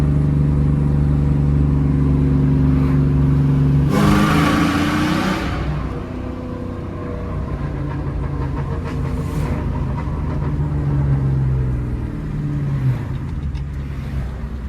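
New Edge Ford Mustang GT V8 with a small muffler, engine rumbling and revving loudly under acceleration near a bridge, with a sharp surge around the fourth second and then a steady, throaty drone.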